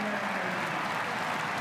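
Basketball crowd applauding and cheering at a FIBA World Cup game between Finland and Belgium after a big lob dunk, a dense steady roar of clapping filling a large arena.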